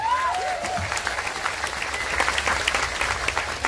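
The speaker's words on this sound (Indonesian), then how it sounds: "tepuk tangan untuk NO Taiwan" Applause from a crowd at an Islamic sermon gathering, a dense, even wash of many hands clapping that runs steadily throughout, with a short voice at the very start.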